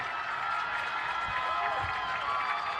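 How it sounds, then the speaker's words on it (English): A crowd at a high school varsity football game, West Monona at Treynor, roars and applauds in a sustained, loud wash of cheering and clapping that holds steady throughout, with faint voices mixed in. "And there's the big roar for him as well."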